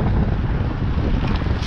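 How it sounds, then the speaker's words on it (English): Loud, constant wind roars against the microphone, a dense low rumble with no pauses and no voices. "It's starting to get really windy up here"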